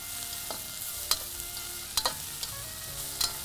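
Fenugreek and other whole spices crackle and sizzle in hot oil, a steady low hiss with a few sharp pops and stirring clicks scattered throughout.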